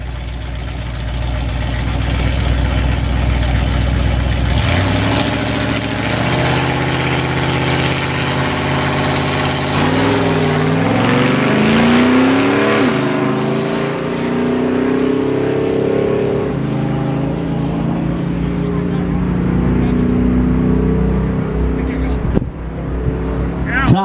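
At a drag strip, a 1984 Pontiac Grand Prix races a unibody truck down the quarter mile, loud engines roaring and rising in pitch through the gears as they pass close by, with an announcer talking over the noise.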